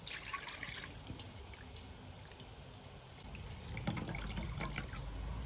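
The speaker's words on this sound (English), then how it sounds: "I'm going to sieve it one more time" Nigerian zobo drink dripping and trickling through a sieve, a quiet run of close drips and splashes that swells slightly toward the end, with no voices.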